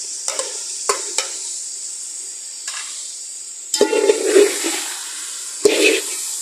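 Chicken frying in a pot as two chopped medium tomatoes go in, a steady bright sizzle with a few sharp clicks and two louder bursts of hissing as the pieces hit the hot oil.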